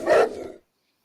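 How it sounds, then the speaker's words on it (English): Dog giving a single short bark, fairly loud and close, ending abruptly into silence. "that sounds like somebody else's dog"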